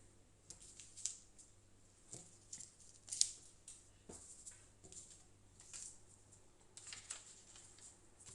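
Scissors snipping through fabric along a traced pattern, a series of faint, close, irregularly spaced crisp cuts over a quiet room.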